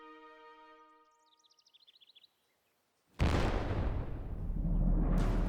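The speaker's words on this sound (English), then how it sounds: "an alarm cannon blasts a warning to the city" A sudden deep alarm cannon blast erupts after quiet with a few distant bird chirps, then rumbles loudly and roars on for several seconds.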